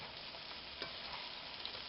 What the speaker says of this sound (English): The onions are beginning to cook